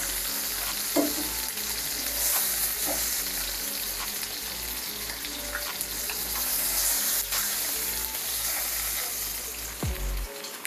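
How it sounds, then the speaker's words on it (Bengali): Koi fish frying in oil give off a soft, steady sizzle with faint crackles, fairly quiet and close, ending in a brief clatter. "কই মাছগুলো ভাজা হয়ে গেছে।"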